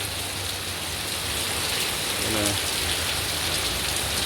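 Steady, heavy rain pours down in a constant dense hiss close by, without a break.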